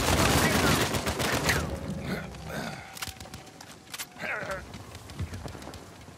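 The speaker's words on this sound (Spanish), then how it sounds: "¡Disparad ahora!" Gunfire in a multiplayer match of Uncharted 4, rapid loud shots and bursts crowding the first seconds, then sporadic fainter shots with shouting voices mixed in.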